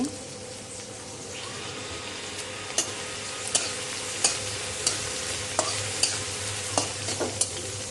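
Garlic and onion fry in hot oil in a pan for spring rolls, a steady close sizzle joined by regular, sharp spatula scrapes every half second or so, with no talking.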